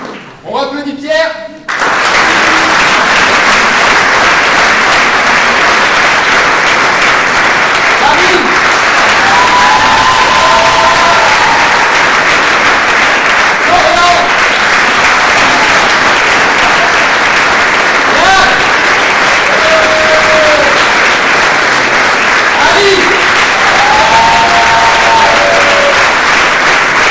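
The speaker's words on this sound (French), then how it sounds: "On applaudit Pierre." A theatre audience applauds a comedian named Pierre, with loud, dense clapping that goes on without a break. Brief whoops and voices rise out of the crowd now and then.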